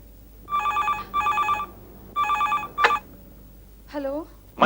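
An old-style telephone bell rings in three quick double bursts, loud and close, followed by a clatter like a receiver being lifted and a short voice.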